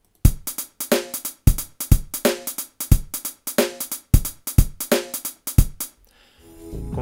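A programmed drum machine pattern of bass drum and hi-hats plays with a swung, shuffled feel from freeware sequencer software, repeating steadily for several bars, then stopping abruptly.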